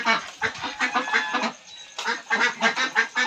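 Backyard pet Pekin ducks quack repeatedly in loud, close, rhythmic bursts while bathing, with a brief lull in the middle before the quacking resumes.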